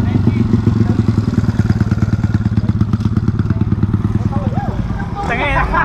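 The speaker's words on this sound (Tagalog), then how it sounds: "Nagdi-drift yung motor" A motorcycle drifts during practice, its engine throbbing in a fast, steady pulsing rhythm close by, with thuds and clatter mixed in, while a voice briefly calls out near the end.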